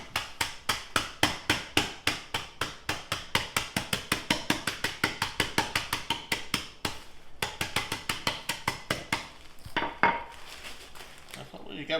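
A rolling pin or hammer strikes leftovers in a zipped bag to crush them into breadcrumbs: a steady, rapid run of loud, sharp knocks close by for the whole stretch, with a brief pause partway through.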